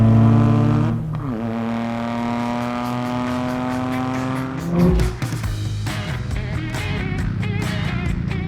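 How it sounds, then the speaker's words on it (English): Exhaust note of a 2025 Toyota GR Corolla GR Cup race car, loud and close: a sustained droning tone that shifts pitch, then a sharp rev burst followed by crackling, popping exhaust. "Oh, the exhaust on this GR Cup car."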